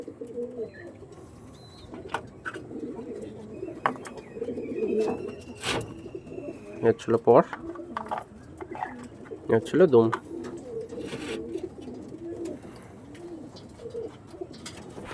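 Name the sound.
Andhra pigeons cooing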